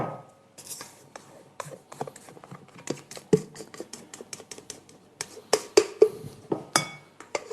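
Egg and sugar batter, whisked for a Christmas log sponge, is scraped into a salad bowl: scattered light clinks, taps and scrapes of a utensil against the bowl, close and fairly quiet, with no talking.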